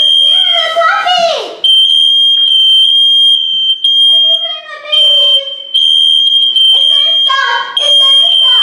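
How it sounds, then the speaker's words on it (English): A smoke alarm in a video game shrills with loud, piercing electronic beeps in repeated bursts, broken by short gaps, with a voice and other talk sounding between and under the tones. "You do get the alarm that goes off first"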